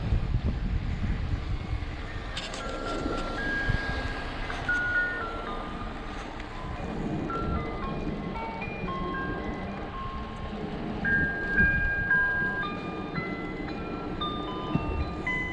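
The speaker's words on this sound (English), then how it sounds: "ice cream truck." Ice cream truck jingle plays as a tinkling, repeating electronic melody at a park, heard at moderate distance beneath constant wind rumble and rolling noise from an e-bike ride.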